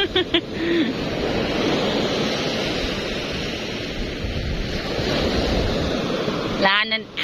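Ocean surf washing in at a beach, a steady broad rushing roar with wind buffeting the microphone, and voices talking briefly at the start and end.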